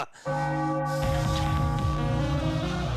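A celebratory bell rung after a Philadelphia Phillies win over the San Diego Padres, sustained steady ringing tones with layered overtones, loud and continuous throughout, with crowd or ambient noise underneath.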